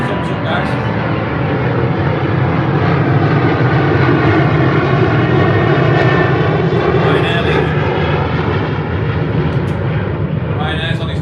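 A Ryanair airliner passes overhead in Tenerife, its engines producing a loud, steady broadband roar that fills the whole stretch with little change in level.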